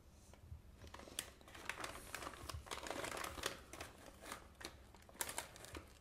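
Colonel & Co olive and herb nachos snack bag, colorful plastic packaging, crinkles and crackles in bursts of sharp rustling, handled close up for several seconds with short pauses between crumples.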